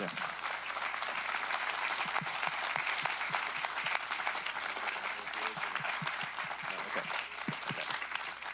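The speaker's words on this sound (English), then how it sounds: "Ladies and gentlemen, let's give her a round of applause for wonderful" An audience at a Sutter County Supervisors meeting gives a steady round of applause, dense clapping sustained throughout at moderate distance, with a few voices mixed in.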